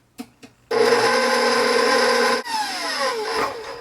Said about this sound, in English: I have to turn off this mixer to get the sugar off the sides